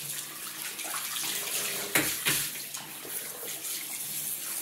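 Running tap water pours steadily into a bath while a puppy's coat is rinsed of shampoo, a continuous splashing hiss with a couple of brief louder gushes, no talking.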